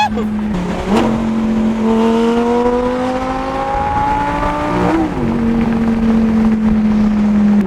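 A sports car engine revs hard through a gear, a smooth rising whine that dips briefly at a shift, then climbs again, loud and close.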